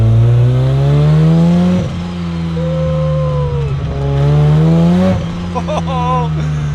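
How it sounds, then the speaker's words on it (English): A turbocharged Mazda RX-7 rotary engine, boosting only lightly, revs hard in a car, rising and falling in long pulls with a loud, buzzing drone from close inside the cabin. "Oh, the noise. And we're only revving it to 6 grand right now."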